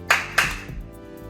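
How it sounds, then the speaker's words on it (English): Two sharp hand claps, close and fairly loud, about a quarter second apart in an indoor room, each followed by a short room decay. "When I clap, you turn on the light."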